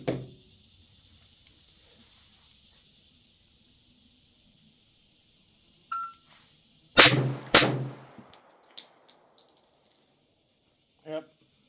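A MAC 1911 MEUSOC pistol fires two sharp, loud shots in quick succession, followed by fainter clicks and clatter and one more brief knock, with a quiet lull and a timer beep before.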